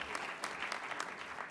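Big round of applause from a plenary session audience for Mayor Villaraigosa, a brief burst of dense crowd clapping, fairly distant and even in level.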